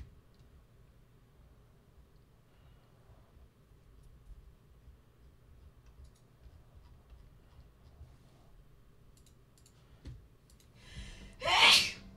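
One loud, close sneeze bursts out near the end after a quiet stretch of faint background hum and small clicks.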